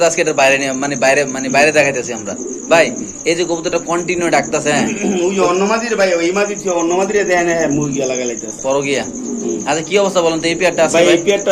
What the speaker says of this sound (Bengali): এখানে আছে এক পেয়ার কবুতর